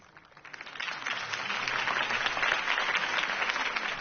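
Crowd applause rising after a campaign speech in a Batman video game, a dense, steady wash of clapping that swells within the first half second and holds loud throughout.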